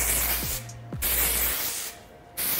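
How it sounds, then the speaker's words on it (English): Hairspray from an aerosol can hisses in two steady bursts at close range while being sprayed all over styled hair, with brief pauses between them. "So again, spraying kind of all over."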